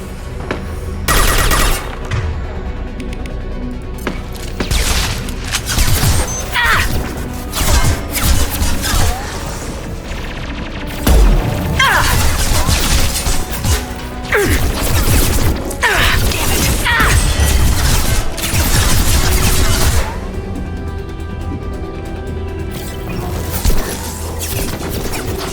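A hacked turret fires in Mass Effect 2, loud bursts of rapid gunfire mixed with crashes and booms in a chaotic, sustained combat din.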